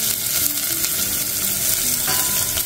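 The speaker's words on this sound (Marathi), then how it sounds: "दालचिनी, तेजपान, चक्रफूल, लवंगा आणि मिरे, आणि त्यातच आपण हा कांदा पण" Onion frying in hot oil with cinnamon, bay leaf, star anise, cloves and black pepper for a paneer pulao, giving a continuous close crackling sizzle with light stirring and no voices.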